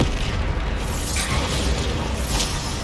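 A Bombarda explosion spell cast in the Hogwarts Legacy video game erupts as dense, rumbling blasts and bursting debris, loud and sustained across the clip.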